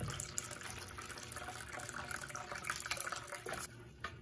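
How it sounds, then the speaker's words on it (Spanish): About a liter of cold water is poured into a container while making grape gelatin, a faint, steady splashing flow that runs throughout and tapers near the end. "Voy a agregar 1 litro de agua fría."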